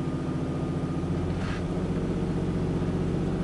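Car engine holding a steady high rev near 2000 rpm while the wheels spin on snow during a test of IzzyGrip liquid snow chains, a continuous loud drone with a brief higher whine partway through.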